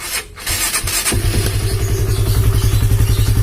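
A Honda CB150R motorcycle with a hard-starting fault, a battery that keeps dropping and a Yamaha Vision regulator-rectifier fitted cranks briefly. It then catches and settles into a loud, close, steady pulsing idle.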